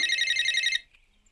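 A mobile phone rings with a loud, bright electronic trilling ringtone that repeats rapidly for under a second, then cuts off abruptly into near silence.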